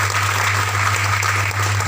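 An audience at a tribal community gathering in Balrampur district breaks into dense, sustained applause, many hands clapping at once over a steady low electrical hum, loud and close for the whole stretch.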